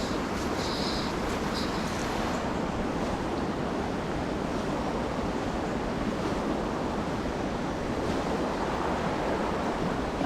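Steady wind gusting across a Scottish river during late-season fly fishing, a dense, continuous roar of air and water noise buffeting the microphone, loud and unbroken throughout with no speech.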